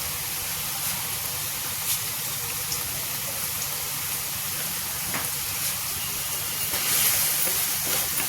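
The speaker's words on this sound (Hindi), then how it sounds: "तो ये देखिए अब इस मसाले को थोड़ा सा पका लेते हैं।" Spice masala for a village-style kundru (ivy gourd) curry sizzles steadily in a kadhai, a continuous hissing fry with no talking over it.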